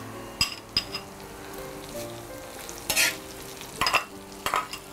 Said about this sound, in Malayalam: ഇനി സവാള ഇതിനകത്ത് കിടന്നിട്ട് ഈ നെയ്യിൽ കിടന്ന് നന്നായിട്ടൊന്ന് പാകത്തിൽ മൂത്ത് കിട്ടും